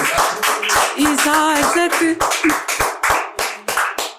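An audience claps at a Hindi poetry recital, a burst of applause with distinct slaps that thins into scattered claps, while a voice speaks over the start.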